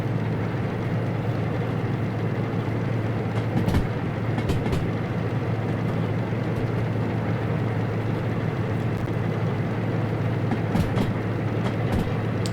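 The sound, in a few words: freight train running in Derail Valley video game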